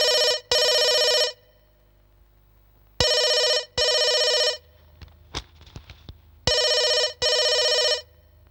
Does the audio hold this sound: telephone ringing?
yes